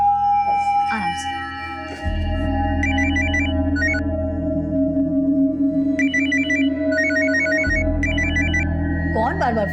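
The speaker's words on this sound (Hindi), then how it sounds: "कौन बार बार फोन कर रहा है?" A telephone in a family home rings in repeated bursts of electronic ringtone tones over a steady background hum, with a short rising chirp at the end.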